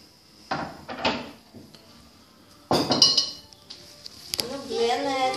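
Pasta and cheese get mixed in a bowl with a utensil, producing irregular clinks and scraping knocks against the dish in several bursts, while a voice speaks partly over the later sounds.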